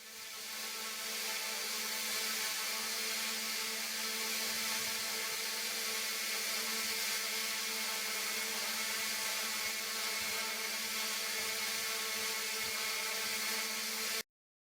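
Multi-rotor aerial robot with its rotors whirring in a steady, continuous drone that holds level throughout, then cuts off abruptly near the end.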